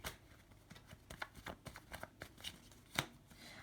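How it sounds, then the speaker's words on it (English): Tarot cards being shuffled by hand indoors, a quiet run of soft riffling flutters and light taps with one sharper snap near the end, close and alone with no talk. "One more shuffle."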